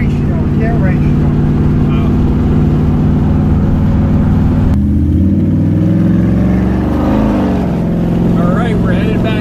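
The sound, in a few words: 1957 Chevy Bel Air V8 engine revving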